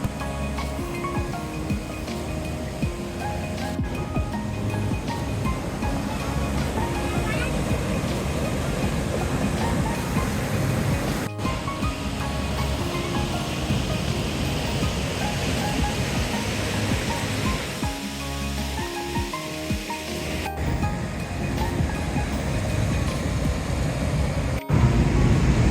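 St. Mary's Falls in Glacier National Park gives a loud, continuous roar of rushing water, a steady wash of sound heard up close with no break.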